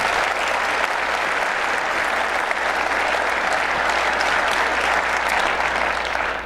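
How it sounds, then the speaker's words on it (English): A large audience at a city's annual civic address breaks into loud, dense, sustained applause that holds at an even level throughout. "Let's give them a nice round of applause."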